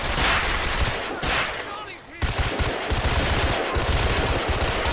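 Rapid bursts of automatic gunfire in a shootout in the LCPDFR police mod for a video game, dense and loud, pausing briefly mid-clip before the rattling volleys resume, with shouting voices mixed in.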